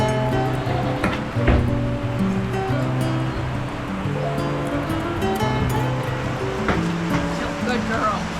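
Floodwater streams through a barn, running past wood shavings that steer its flow. It makes a continuous rushing wash under a person's talking and some tonal background sounds.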